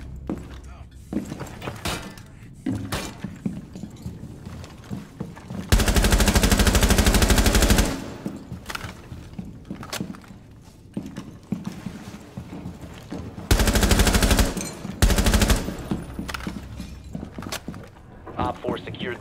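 416-C carbine fire in a video game: two long, loud bursts of automatic gunfire stand out, separated by quieter clattering, footsteps and mechanical handling noises.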